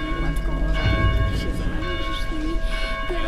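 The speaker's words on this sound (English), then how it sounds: "Maybe you can figure out how to silence those blasted bells." Church bells ring steadily in the zombie video game Dead Island, layered with sustained metallic tones and low background rumble, with no speech.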